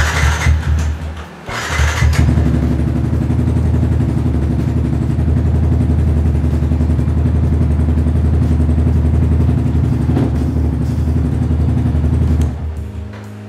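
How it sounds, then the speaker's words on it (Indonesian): A Yamaha Xabre 150 motorcycle with a newly replaced battery cranks on its electric starter, catches and runs at a loud, steady idle close by for about ten seconds before settling lower, with no talk. "Kita coba starter karena sebelumnya nggak bisa di starter ya."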